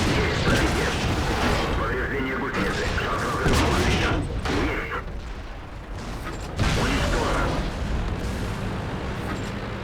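Heavy artillery and cannon fire rumble through a World of Tanks battle, booming blasts layered over constant engine and mechanical noise, with a voice talking over the din.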